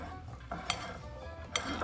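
A spoon stirring seasoned chickpeas in a bowl for chickpea tacos, with soft scraping and two brief clinks against the bowl, quiet and close.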